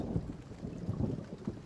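Low rumbling thunder of an approaching storm in a cartoon, rolling in soft uneven bursts beneath faint wind and rain, moderately quiet with no talking.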